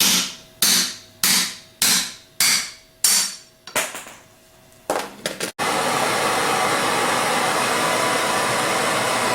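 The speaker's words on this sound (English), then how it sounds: "Next we're going to drive out the drive-in bearing with a 1/2 inch extension and a hammer." Repeated sharp hammer blows on a 1/2 inch extension drive the bearing out of a Valeo alternator's drive-end housing, about eight evenly spaced metallic strikes followed by a few quicker taps, then a loud steady whooshing blower-like roar fills the rest.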